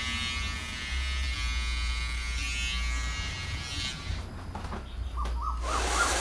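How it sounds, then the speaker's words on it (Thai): An electric shaver trims the hairline for a skin fade haircut, giving a close, steady buzzing drone that thins out near the end, with light rustling and faint chirpy noises. "ต่อมานะครับผมใช้เป็น ตัว โกนหนวดนะครับ เก็บตีนผมนะครับ"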